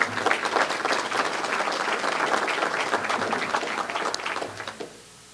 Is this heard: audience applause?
yes